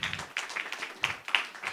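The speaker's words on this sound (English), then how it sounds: "Round of applause." An audience gives a round of applause for a community coat drive, with scattered, moderate clapping that is steady but not very dense throughout.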